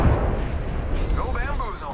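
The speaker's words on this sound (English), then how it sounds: "Delivering frag." A frag grenade blows up in the video game Apex Legends, giving a deep rumbling boom that rolls on for a moment while a voice speaks over it.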